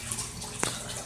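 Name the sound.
water sloshing in a fish tank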